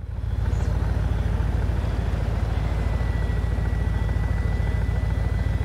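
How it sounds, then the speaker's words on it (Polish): Lexus LC 500 engine idling at a standstill in the Forza Horizon 5 video game, a deep, steady, rumbling throb that stays loud and even throughout, alone without voices. "Posłuchajcie tylko, jak on brzmi na postoju"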